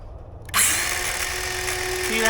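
A circular saw with a laser guide starts up after a brief quiet moment and cuts steadily through a piece of wood for a raised garden bed, loud and close with a sustained high whine.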